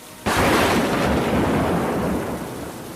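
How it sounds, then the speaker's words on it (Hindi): Heavy rain and rolling thunder in an animated village story, bursting in suddenly as a loud, broad roar that stays dense and steady, slowly easing off toward the end. "बारिश लगातार तेज होती जा रही थी"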